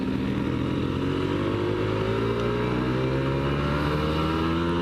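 A Kawasaki Ninja 150 RR motorcycle accelerates hard, its high-revving engine climbing steadily in pitch through the whole stretch, loud and close, with a buzzing, raspy tone.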